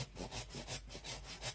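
Sawing through a dried calabash gourd by hand, with steady back-and-forth strokes of about four per second, close and moderately loud with a dry rasping scrape and no voices.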